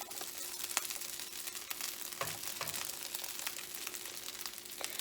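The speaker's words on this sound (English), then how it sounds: "You'll hear a little sizzle, but don't worry." Steady crackling sizzle of fried rice frying in a hot pan, with scattered pops and a faint scrape of stirring throughout.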